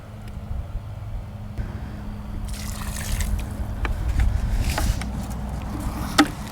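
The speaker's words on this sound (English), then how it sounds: "you'll hear the air bubbles kind of pushing out" Water soaks into sandy soil around a bare-root plant, with faint trickling and small bubbling pops as trapped air escapes, quiet and close, a slightly louder burble near the end.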